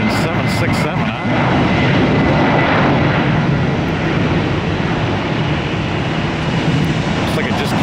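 A Boeing 767 jet airliner at Tampa airport produces a loud, continuous engine roar throughout, close and steady with broad rumbling noise, while people talk faintly underneath.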